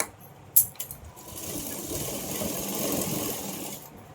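A sewing machine runs a straight line of stitching on a Patiala pant, a soft steady whirring hum after a few brief clicks and knocks at the start.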